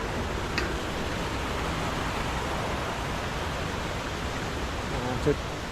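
A stream near the Tad Kuang Si waterfall in Laos flows with a steady, even rush of water that holds unbroken throughout, with no voices over it.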